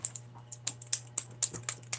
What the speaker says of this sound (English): I want to show you that they shuffle real well